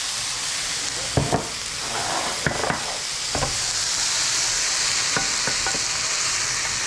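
Chicken sears in a pan as the base for browned butter fettuccine Alfredo, giving a steady, close, loud sizzle with a few sharp clacks and scrapes of a utensil against the pan.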